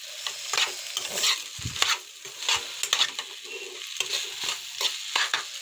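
Crushed leftover cooked rice is stirred and fried in a pan, a soft sizzle under repeated scraping strokes of a spoon that come in uneven bursts with a dull thump partway through, close up and without talk.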